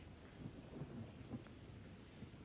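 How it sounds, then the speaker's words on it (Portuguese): Steady rain pours on a flooding street during a thunderstorm, with low rolling thunder rumbling faintly and continuously beneath the downpour. "A chuva. A rua já está alagando."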